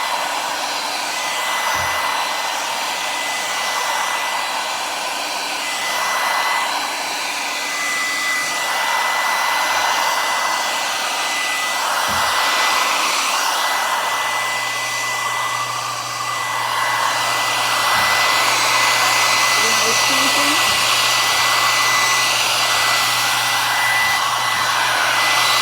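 Heat gun blowing steadily while shrinking plastic wrap around a gift basket, a continuous loud whooshing airflow that rises slightly in pitch partway through, close by with occasional faint handling thumps and no talk.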